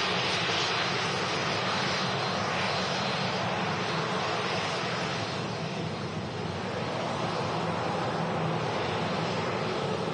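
A Pegasus Boeing 737-800 jet roars steadily at Manchester Airport, a loud broadband engine rush that holds near-constant for the whole stretch with no voices.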